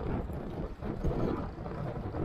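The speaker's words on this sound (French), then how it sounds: "mais on a le vent de face." A headwind buffets the microphone while cycling on a downhill stretch of the REV route toward Pacé near Rennes, giving steady, loud, low rumbling gusts throughout.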